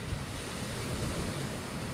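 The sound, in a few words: sea waves on the shore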